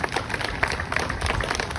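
Brief burst of audience applause at the Alamo Letter Monument dedication in Crockett, Texas, a scattered patter of hand claps at moderate distance.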